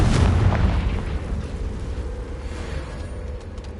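A Confringo blasting spell explodes in the Hogwarts Legacy video game: a loud, close, deep boom at the start that rumbles and slowly fades over a few seconds.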